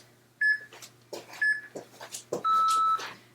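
A workout timer beeps: two short electronic beeps about a second apart, then a longer beep, with soft shuffling and clatter between them.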